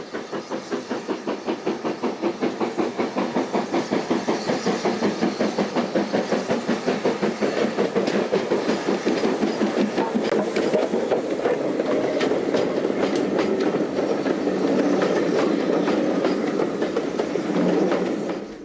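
LMS Black Five steam locomotive 44806, built at Derby in 1944, running on the Llangollen Railway in North Wales: steady, rapid rhythmic chuffing with clattering wheels and hiss, loud and close throughout.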